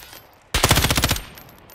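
Call of Duty Warzone weapon fire: a rapid automatic burst of about ten shots lasting under a second, loud and close, following a short quiet stretch.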